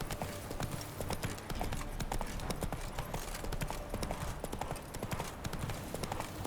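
Steady, rapid clip-clop of a horse's hooves on hard ground in The Witcher 3: Wild Hunt, continuous and fairly close under a dense game soundscape.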